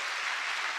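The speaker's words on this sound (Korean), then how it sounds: "박수 한번 칠까요?" A church congregation claps during a special dawn revival service, a short dense burst of applause heard alone.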